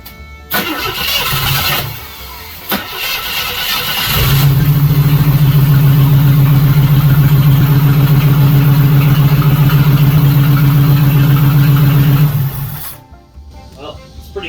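A 1976 AMC Gremlin six-cylinder with a misfire on cylinder six cranks briefly, catches and runs at a loud, steady, slightly uneven idle for several seconds before shutting off, close by.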